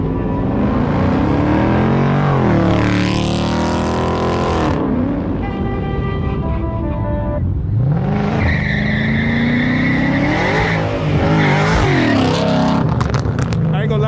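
At an outdoor car meet, a loud car engine revs hard and climbs through the gears as the car slides sideways, with tire squeal and crowd noise around it and voices talking over it.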